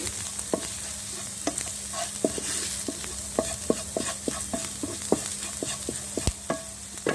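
Turmeric and chili powder are stirred into frying oil in a pan, a faint sizzle running under sharp, evenly spaced spatula taps and scrapes, with no talking.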